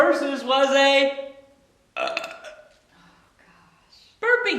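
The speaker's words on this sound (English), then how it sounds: "burping contest." Several loud, drawn-out burps close up, one after another, separated by short pauses, in a burping contest.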